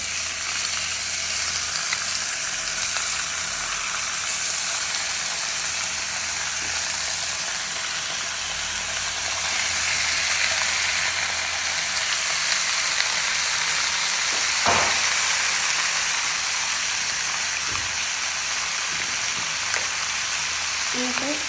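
Chicken pieces frying with browned onions in a pan for Kasaragod-style chicken upperi, a steady broadband sizzle running throughout, with a couple of brief clinks of a utensil near the end.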